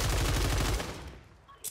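Rapid gunfire bursts from the Warzone video game, shotgun blasts in quick succession for under a second, then fading into quiet game ambience.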